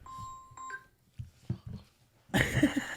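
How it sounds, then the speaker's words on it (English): Electronic beeping tones sound in short bursts, then a louder, harsher alarm-like burst cuts in near the end. "That was an alarm."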